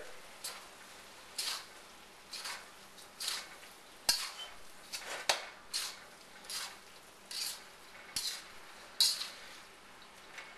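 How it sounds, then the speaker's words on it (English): Lo mein mixture is stir-fried in a pan, heard as a run of about a dozen quick scraping and tossing strokes in a loose rhythm, fairly faint and close, with a soft sizzle and occasional clinks between them. "And now we're going to stir fry the mixture together."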